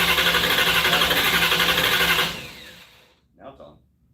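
A 1968 Plymouth Barracuda engine cranking on its starter, a loud rapid chugging whirr for about two seconds that winds down and fades, followed by a faint brief clatter.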